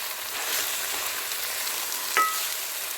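Gongura leaves sizzle in oil in a pan at a steady hiss, with one brief clink of a utensil as they are stirred, close and without speech.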